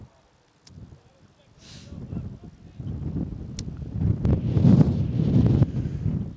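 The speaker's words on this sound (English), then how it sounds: "There's a gust of wind." A gust of wind buffets the microphone at an outdoor high school boys' varsity soccer match, a low rumbling roar that builds over several seconds and peaks near the end, with a voice partly audible beneath it.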